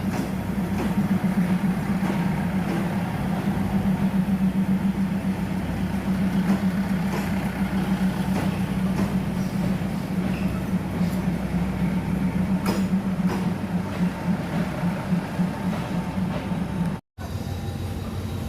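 Diesel locomotive rumbling steadily at Hua Lamphong station as it moves in to couple onto a train, a continuous low engine drone with rail noise, close and sustained, with a brief dropout near the end.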